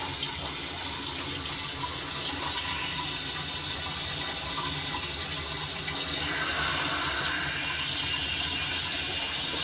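A toilet cistern refills after a water main failure, its automatic fill valve letting in dirty water with a steady loud hiss and rushing flow that runs unbroken, the tone shifting partway through.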